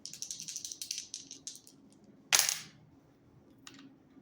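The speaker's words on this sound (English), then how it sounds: "rolling the dice to see what I need to shuffle a deck to" Dice rolled during a tarot-style reading: a quick run of light rattling clicks, then one louder clatter as they land, with a faint tap shortly after.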